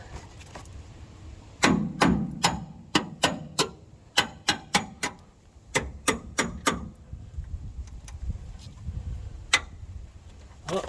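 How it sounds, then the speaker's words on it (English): Sharp metallic hammer blows strike a car's steering assembly to line up a bolt, coming in uneven bursts of rapid knocks with short pauses between, close and ringing, with a few lighter taps trailing off. "Keep hammering away at it."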